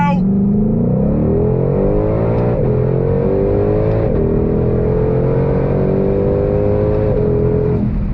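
A 2022 Ford Shelby GT500 Heritage Edition Mustang engine revs hard and loud, climbing in pitch and dropping back at each gear shift, up through several gears.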